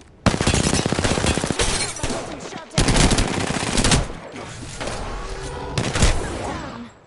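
Rapid automatic gunfire from a video game firefight, loud and close, in long sustained bursts separated by brief pauses, with overlapping shots and echoes.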